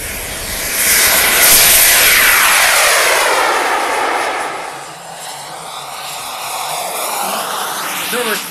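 A model aircraft at an IMAA Europe meeting at La Ferté-Alais makes a very low, loud pass, then throttles up, its engine sweeping through a strong rising and falling roar as it flies close overhead.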